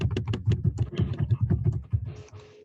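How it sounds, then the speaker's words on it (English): Fast, furious typing on a computer keyboard during an online planning commission meeting, with dense rapid key clicks up close that thin out toward the end, and no voices. "I hear furious typing"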